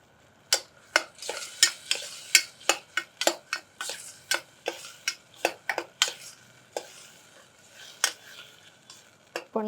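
Millet is stirred and dry-roasted with salt and turmeric in a pan. A spoon scrapes and taps the pan in a steady, rhythmic series of crisp clicks over a faint sizzle, close by, with no talking.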